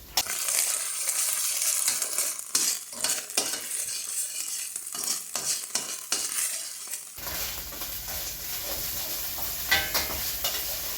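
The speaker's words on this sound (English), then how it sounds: "we're going to saute this just until the garlic becomes lightly golden" Garlic sautéing in anchovy oil, with a steady bright sizzle, repeated scraping and stirring strokes against the pan, then a more even, hissing fry near the end, no speech.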